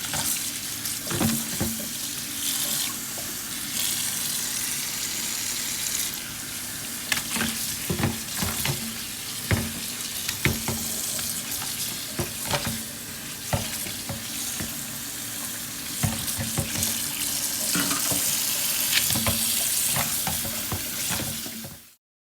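Sea moss is washed by hand in water with lime, with steady sloshing and splashing broken by repeated louder clatters and squelches, close and continuous.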